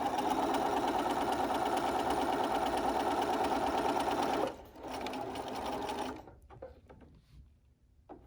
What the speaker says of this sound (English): I'm going to sew a few stitches forward, Then I'm going to go a few stitches backwards all the way to the edge